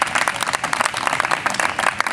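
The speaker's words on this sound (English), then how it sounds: "Boys, please clap for him." Audience at a high school swimming and diving team banquet claps steadily for a couple of seconds, a dense, close patter of many hands without talk.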